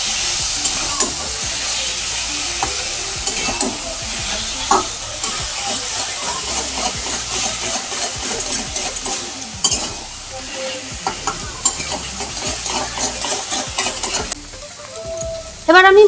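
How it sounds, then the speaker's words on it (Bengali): Taro leaves (kochur shak) stirred in a hot frying pan: a steady, close sizzle broken by repeated spatula scrapes and stirs, easing briefly near the end before a final clatter, with no talking. "আমি নেড়ে চেড়ে সব কিছু একসাথে মিশিয়ে নিচ্ছি"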